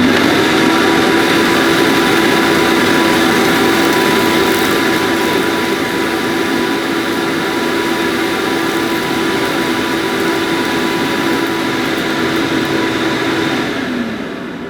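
A Goblin Omni 1000 cylinder vacuum cleaner runs on carpet, a loud, steady motor drone with a constant whine, held for a long stretch before tapering slightly at the end.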